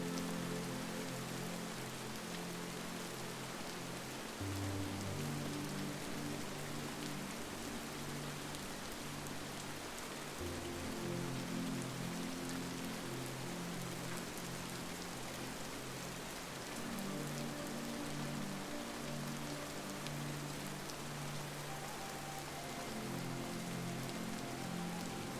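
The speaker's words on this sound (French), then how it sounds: "aucun bruit se fait entendre ailleurs que cette pluie" Steady rain falling on a surface, a continuous even hiss with soft patter throughout, alone with no voices.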